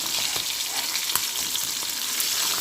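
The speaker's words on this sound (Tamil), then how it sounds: "இப்போ தான் திருப்பி விட்டுருக்கோம். திருப்பி நல்லா வேகணும்." Masala-coated fish fries in a pan just after being turned, giving a dense, continuous sizzle with small crackles and spits throughout.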